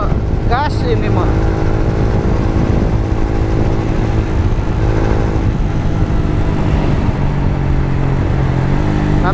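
A Yamaha Vixion motorcycle engine runs steadily and loud throughout, a constant close engine drone with harmonic bands that shift slightly in pitch as the throttle changes, with a brief voice near the start.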